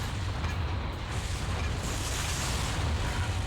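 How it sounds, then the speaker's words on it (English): A plasma cannon in Armored Core 3 booms steadily, a loud, unbroken wall of deep explosive rumble with faint mechanical texture that holds at an even level throughout. "Well, that makes a great sound, by the way, the plasma cannon."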